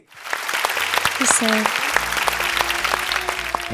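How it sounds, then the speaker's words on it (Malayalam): A crowd applauds steadily at a singing competition show, a dense patter of many hands clapping, with a voice and some music-like tones faintly underneath. "ഈ പാട്ട് പാട്ടെടുത്ത് അറ്റംപ്റ്റ് ചെയ്തതിനൊരു വലിയ കയ്യടി"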